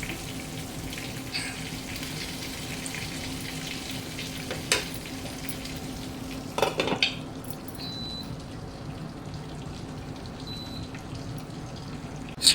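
Brinjal fries in oil in a covered pan, giving a steady low sizzle throughout with a few clinks and stirring noises partway through.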